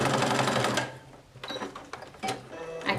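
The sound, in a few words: sewing machine sewing decorative stitch on a toiletry bag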